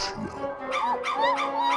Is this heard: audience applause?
no